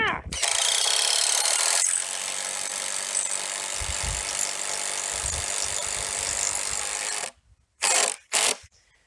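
A power drill grinds steadily into tough wood while a raised garden bed is built, one long continuous run followed by two short bursts near the end.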